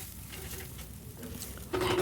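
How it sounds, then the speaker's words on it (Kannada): Oil fries on a cast iron tawa being seasoned until it turns brown, a faint, steady hiss that swells into a louder sizzle near the end. "ನೀಟಾಗಿ ಎಲ್ಲ ಫ್ರೈ ಮಾಡಿ ಹಂಚಿನ ಮೇಲೆ"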